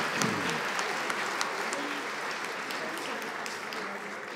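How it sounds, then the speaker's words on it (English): Audience applause at a fall 2023 graduation ceremony, honouring graduating health care aide cohorts, forms a dense, loud and sustained roar of many hands clapping, steady from start to finish with no clear speech. "let's give them a big round of applause nonetheless"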